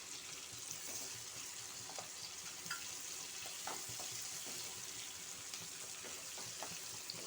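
Chopped onions and green chillies sauté in a pan, giving a soft, continuous sizzle with scattered light crackles and faint spoon taps, fairly quiet and steady.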